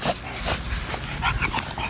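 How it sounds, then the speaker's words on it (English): Several dogs crowd around a new puppy, whimpering, yipping and giving short barks in quick, overlapping bursts at close range. "A big crowd of dogs."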